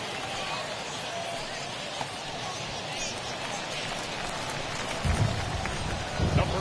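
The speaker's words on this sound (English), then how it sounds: "It's raining cats and dogs out there." Heavy rain in the baseball game MLB The Show 21, a continuous loud wash of rainfall throughout, with low rumbles and a commentator's voice near the end.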